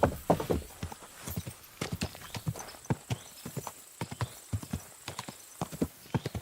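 Horse hooves in the video game Kingdom Come: Deliverance clip-clop in a steady, brisk rhythm of sharp, close knocks, with a brief whinny near the start.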